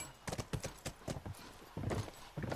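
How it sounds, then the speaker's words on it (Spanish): Horse hooves clatter in a quick, uneven galloping rhythm in the video game The Last of Us, loud and close, with sharp thuds that bunch into bursts and then pause. "Corre, caballo, salta"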